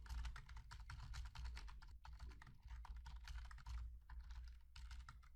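Fast, continuous clicking of a computer keyboard while code is typed, quiet and close, with brief pauses between bursts of keystrokes.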